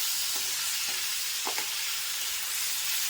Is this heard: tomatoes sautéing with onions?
yes